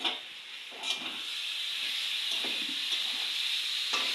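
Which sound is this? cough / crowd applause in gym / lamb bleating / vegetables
vegetables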